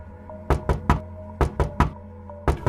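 Sharp knocks on the wooden lid of a coffin from inside come in three quick bursts of two to three raps each, loud and close over a low eerie drone.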